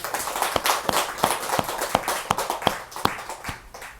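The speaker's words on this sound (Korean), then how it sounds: "박수 한번 쳐요" Audience clapping together at a Buddhist dharma lecture, a fairly close burst of sharp, slightly uneven claps running steadily for about four seconds with no talking over it.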